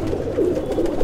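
Pigeons kept by fanciers coo in a soft, low, throaty burble, a couple of rolling calls close by with no talk.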